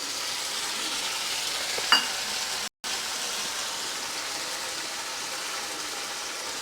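A steady, even sizzle of frying fills the pan as tomatoes go in with the vegetable biryani base. There is a brief stirring scrape and a short gap, and no one speaks.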